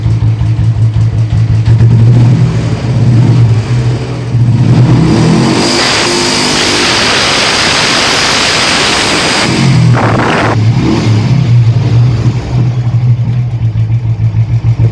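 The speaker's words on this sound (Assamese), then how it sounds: "ফুল এক্সেলেটৰ দিম আপোনাক মই দেখাই আছোঁ।" A 1988 Royal Enfield Bullet motorcycle engine, running without misfire, thumps at a loud idle, then twice surges into full-throttle revs before dropping back to a steady close-up putter.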